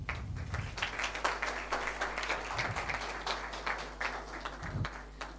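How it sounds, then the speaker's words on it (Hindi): Audience clapping at a live ghazal evening, a sustained dense patter of many hands held at moderate loudness over a low hum, no talking over it. "जोर से तालियां"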